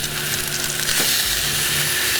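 Ribeye steaks sizzling on grill grates as they are turned, a loud, steady close-up frying hiss with a brief soft shuffle midway.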